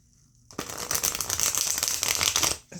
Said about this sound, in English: I was hoping this would make it easier to shuffle